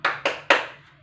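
A small group of women clapping the P2K2 family-meeting routine: three sharp, near claps in a quick even rhythm, the last ringing out longest, with no talk over them.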